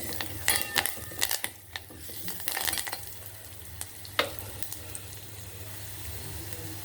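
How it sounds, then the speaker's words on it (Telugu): Lentils for bottle gourd dal being stirred into a hot pan, with a soft sizzle and a few scraping, clinking strokes of a spoon early on, then a steady quiet frying hiss. "ఇందులో మనం పెట్టుకున్న పప్పుని వేసుకొని ఒకసారి తిప్పేసుకున్నాం"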